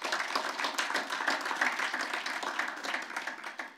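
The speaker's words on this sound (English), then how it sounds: "A round of applause for our girls." Steady, even applause from an audience at a 2019 Gold Cup venue announcement event for a Jamaican women's team, a dense wash of clapping held at moderate distance for several seconds.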